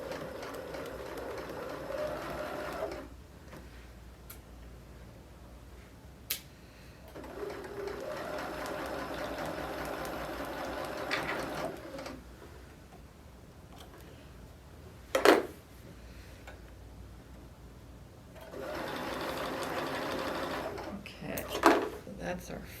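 A sewing machine stitches quilt pieces with a quarter-inch seam in bursts of steady whirring, stopping and starting between runs, with a few sharp clicks and handling knocks and occasional talk in the pauses.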